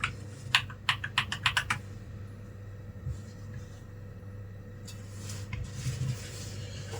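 Keys on an Akko 3061S Black & Silver mechanical keyboard are pressed in a quick burst of about eight crisp clacks, then a few softer scattered taps follow against a quiet low hum.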